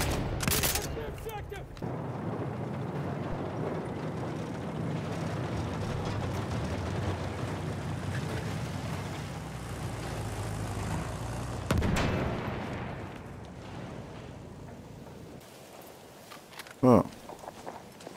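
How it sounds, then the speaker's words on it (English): Shotgun fire from a video game battle, a few heavy blasts over a dense, rumbling wash of distant gunfire and explosions, with people talking throughout. "It is a shotgun."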